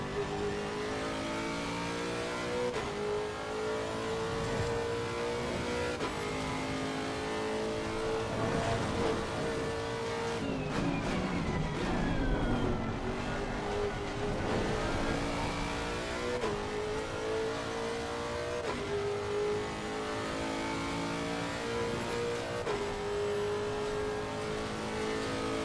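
Race car engine in the Le Mans Ultimate racing sim, revving loud and steady through repeated upshifts down a straight, with a brief downshift burst midway and continuous engine drone throughout.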